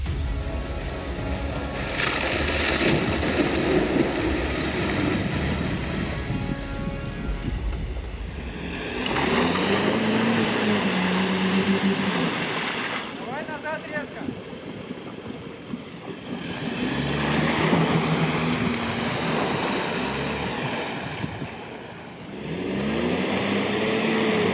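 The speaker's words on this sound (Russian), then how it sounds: "первый у нас едет джип Рубикон." A Jeep Rubicon with all its locks engaged ploughs through muddy puddles. The engine revs rise and fall in several surges, each with a rush of splashing, sloshing water.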